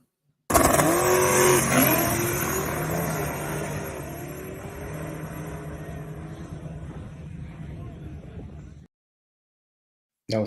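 A small tire drag race car makes a racing pass, a loud roaring engine launching close by, then fading steadily as it pulls away for several seconds before cutting to silence.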